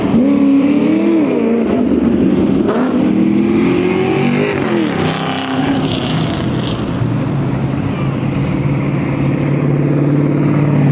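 A loud car engine drones past close by with a sustained, slowly shifting tone. There are no voices.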